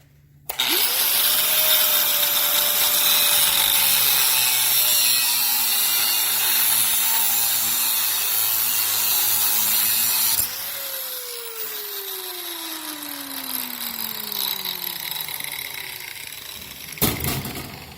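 A hand grinder's cutoff wheel cuts through the end of a metal bar, giving a loud, sustained high whine that drops in pitch as the wheel bites in, then a brief clatter at the finish.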